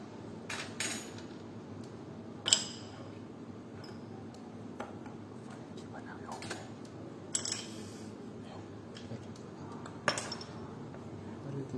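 Three to four ice cubes dropped into a glass, giving several sharp, bright clinks scattered over a quiet room background, a few louder knocks standing out among softer ticks.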